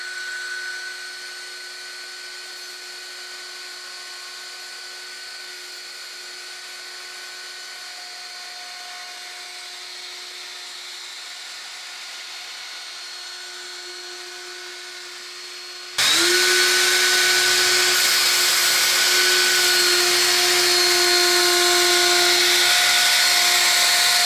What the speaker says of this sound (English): what I'm going to do is cut this out with a router